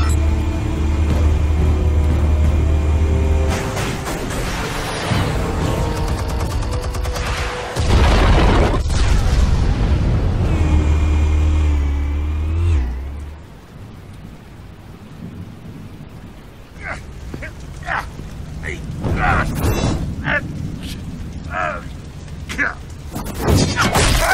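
Explosives firing in a Batman cartoon, heavy rumbling booms and a roaring blast that fills the first half, then fading into crackling debris and scattered impacts, loud and dramatic.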